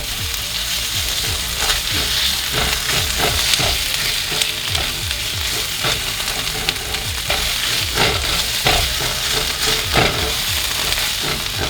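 Garlic mushrooms and tomato paste stirred together in a pot, a steady sizzle of frying with repeated scraping, spoon-against-pot strokes throughout, close and fairly loud.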